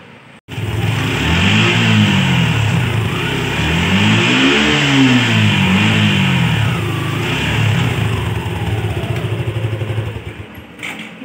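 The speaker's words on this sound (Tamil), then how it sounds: "இப்போ வண்டியை வந்து ஸ்டார்ட் பண்ணி கூட பார்ப்போம் பிரேக் பிடிச்சி" A two-wheeler engine, freshly fitted with new disc brake pads, starts after a short pause, then revs up and down in repeated swells close by before settling toward idle, with no talking.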